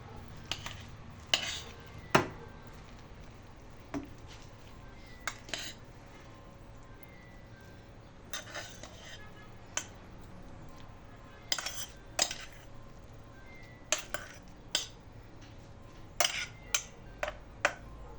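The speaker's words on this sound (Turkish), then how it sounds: "Tepside geri kalanla tepside karıştırırım. Şimdi hepsini böyle karıştıracağım." Boiled rice mixed into a stuffing for yogurt and cheese stuffed peppers in a baking tray, heard as scattered scrapes and clinks of a spoon against the tray under a quiet room.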